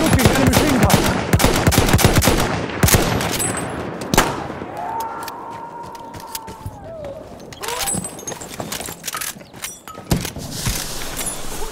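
Battlefield 1 gameplay filled with rapid machine gun fire in dense bursts, broken by a sharp blast and a quieter stretch with a rising whine before the shooting resumes, loud and close throughout.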